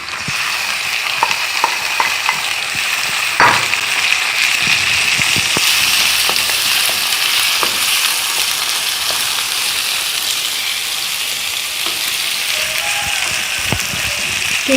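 Minced meat sizzles in a pan with sautéed onions, a steady loud hiss of frying with occasional scraping stirs and clicks throughout, no voices.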